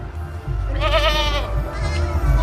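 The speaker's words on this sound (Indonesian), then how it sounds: "Untuk kambing-kambingnya juga banyak yang berteduh loh Mas Tony ini." A goat on a farm gives one wavering, drawn-out bleat, close and clear over a low rumble of farm background noise.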